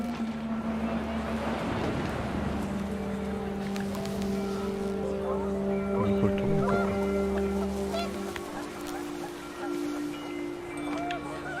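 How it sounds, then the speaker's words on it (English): Panicked geese honk in What Remains of Edith Finch, loud and mixed with a steady engine-like hum and wind, the calls scattered across the scene. "The wind picked up, and panicked geese appeared and quickly went."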